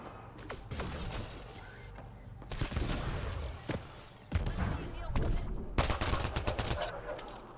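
Gunfire in Mass Effect Andromeda, shot from the air: irregular bursts of loud shots and thuds, several clusters separated by short gaps, with a voice talking between them.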